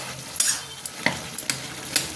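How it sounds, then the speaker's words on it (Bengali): Boiled potatoes are stirred and mashed in a pot while cooking at a New Year's picnic, giving a handful of separate scraping, knocking strokes over a soft sizzling background, close by and with no talking. "আলুগুলো একটু ঘেঁটে ঘেঁটে দেবো।"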